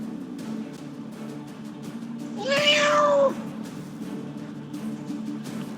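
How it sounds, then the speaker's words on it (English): A pet cat gives a single clear drawn-out meow close by, rising out of a low steady background hum from a game. "My cat is talking to me."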